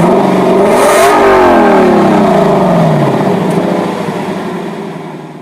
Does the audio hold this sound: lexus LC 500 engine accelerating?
yes